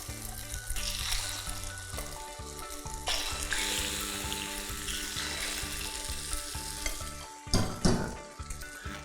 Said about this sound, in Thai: เราก็หยอดไข่ลงไปเลย เราต้องรีบนิดนึงนะครับ